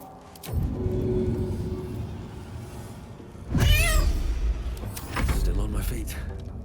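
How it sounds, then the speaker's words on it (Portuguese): A cat in Baldur's Gate 3 lets out a clear, rising and falling meow near the middle, set against game ambience and background voices. "Gatinho."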